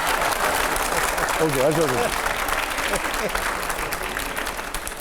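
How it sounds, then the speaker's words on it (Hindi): Sustained audience applause in a televised talk-show studio with a panel of editors, steady and full throughout, with a voice briefly speaking over the clapping partway through. "हर्षवर्धन जी आप ताली मारिए"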